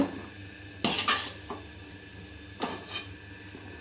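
Fried paniyaram balls are lifted from a pan onto a plate, producing a few light metallic clinks and scrapes of utensil on cookware, quiet and close, with soft sizzling beneath.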